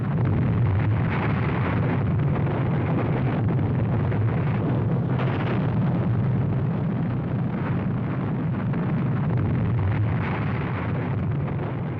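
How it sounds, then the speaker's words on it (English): Massive rumbling roar of the Fat Man plutonium atomic bomb exploding over the military port of Nagasaki in WWII, a loud dense sustained boom with no break across the whole stretch. "Fat Man was dropped on the major military port of Nagasaki. The plutonium bomb was even more powerful."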